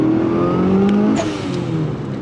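Turbocharged Mitsubishi Evo engine pulling hard under throttle, a loud, steady, close engine roar with a rising tone that holds throughout.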